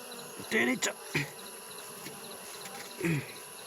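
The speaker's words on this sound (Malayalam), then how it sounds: "നോക്കിയേ, ഇതാണ് തേനീച്ച." Honeybees hum in a faint, steady drone close by, while short, sharp tonal squeaks and knocks cut through it a few times.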